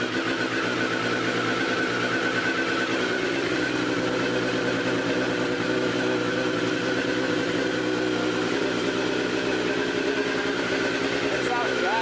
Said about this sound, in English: No, you gotta warm up the engine and let it cycle.